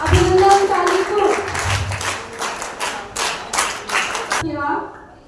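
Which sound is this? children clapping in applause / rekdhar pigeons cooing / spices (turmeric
children clapping in applause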